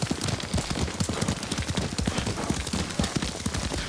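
Horse hooves clip-clop steadily in Ghost of Tsushima as a rider travels on horseback, a dense, regular hoofbeat rhythm held close and fairly loud across the whole stretch, with no voices over it.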